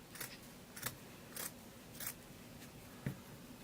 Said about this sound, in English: with a good pair of scissors, hopefully.